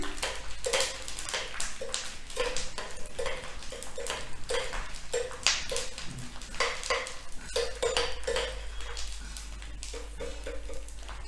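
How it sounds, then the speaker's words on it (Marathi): Edible gum (dink) fries in hot ghee in a pan while a utensil stirs it in a quick, repeated rhythm of metallic scrapes and clinks, close and continuous, with a low hum beneath. "त्यामध्ये आपण आता डिंक टाकून तळून घ्यायचं आहे डिंक चांगला फुलवून घ्यायचं आहे"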